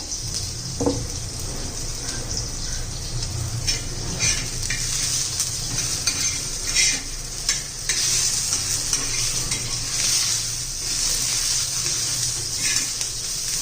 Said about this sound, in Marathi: हे कांदा बऱ्यापैकी झालेला आहे. त्याच्यातच आलं लसूण पण घालून घेऊया.